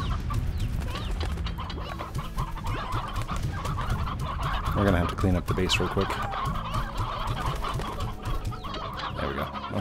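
In the video game Slime Rancher, a flock of chickens clucks and gobbles in dense, busy overlapping calls, close and continuous, while a player talks over them.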